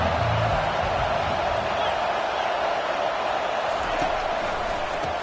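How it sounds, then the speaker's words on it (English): A football stadium crowd roars during a third-down play in a Texas vs Arkansas game, a dense, sustained wall of cheering that stays loud for the whole stretch. "Decibels rising as the crowd gets behind this defense on third down."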